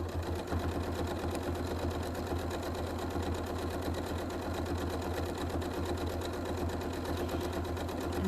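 A sewing machine runs fast and continuously while free motion quilting a mug rug, giving a loud, steady, rapid needle chatter over a motor hum, close up and with no speech.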